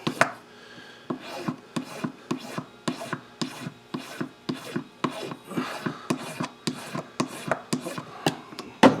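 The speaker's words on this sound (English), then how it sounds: "So I'll finish filing this down to the thickness" A file rasps across hard wax in steady, evenly spaced strokes, each a short scraping burst, close and fairly quiet with no talk.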